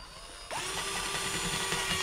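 A power drill spins up sharply and runs steadily, driving screws through a wall bracket into a joist or drywall for a flush-mounted ceiling system. It is close, loud and continuous after a brief quiet start.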